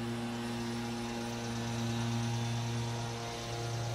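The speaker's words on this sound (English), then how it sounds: "Someone is cutting the grass." A steady engine drone with a constant tonal hum from a lawnmower cutting grass at a distance near a house by a road, unchanging throughout.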